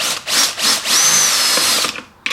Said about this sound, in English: So I'm going to grab a drill bit and we're going to put a hole in it.